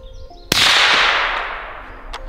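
A .300 Blackout rifle fires one supersonic shot: a sharp, whip-like crack that tails off into a long hissing decay. It is loud and close, with faint knocks afterward.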